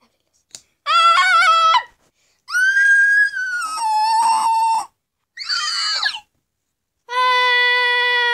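A cartoonish character's screams from a children's show about getting vaccinated: several separate shrill, high-pitched wails and squeals with pauses between, loud and close, no speech.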